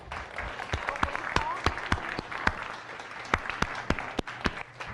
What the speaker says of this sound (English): Let's give Colleen a round of applause.